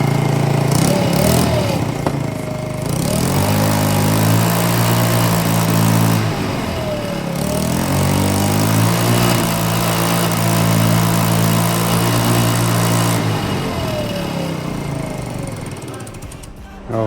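A scooter engine runs during a repair job outdoors in snow, a loud, rough, rattling idle with a leaking exhaust that rises and falls in brief revs, someone talking now and then over the close, steady chugging.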